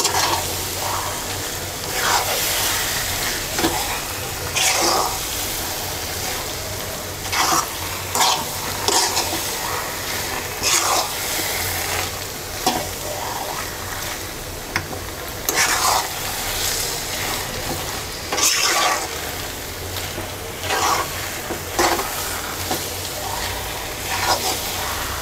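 Sweet, sour and spicy mixed fruit pickle being stirred and sautéed in a pan: a steady sizzle runs throughout, broken by repeated scraping strokes of the spoon, close and fairly loud, with no talking.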